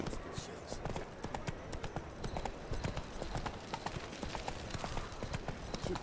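Hooves of the horse Roach clip-clop in steady rhythm through The Witcher 3 video game, close and fairly loud beneath a man's speech and game ambience.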